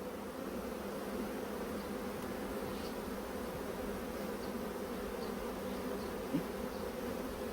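Honeybees buzz steadily at a hive, a dense, even drone of many insects close by, faint and unbroken, with a single small knock near the end.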